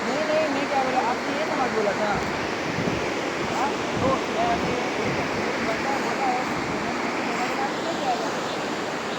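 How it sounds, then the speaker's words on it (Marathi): A big river rushing beneath a wooden bridge near Kallu, Manali, a loud steady roar of flowing water with some wind buffeting the microphone, close and continuous, with a voice faintly present. "मोठी नदी आहे."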